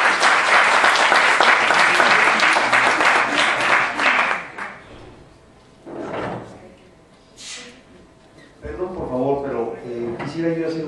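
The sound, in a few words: audience applause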